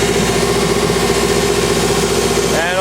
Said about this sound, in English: Our motor just idled down.